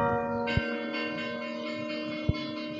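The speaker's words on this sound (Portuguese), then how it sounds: "todas as igrejas da nossa diocese, nesse exato momento, os sinos estão tocando" Church bells ring with a rich, sustained metallic tone, strikes sounding twice over a lingering hum of overlapping peals.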